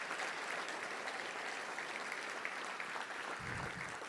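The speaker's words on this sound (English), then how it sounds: "let's give a round of applause to all those wonderful folks who we'll miss" A room of people at a touchdown club gathering applauds softly and at a distance, a faint, even wash of clapping sustained throughout.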